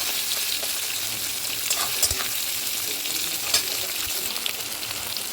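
Chopped onions sizzle and fry in hot oil with bay leaf in a wok, a steady close crackle with a few sharp scrapes and clicks of stirring scattered throughout.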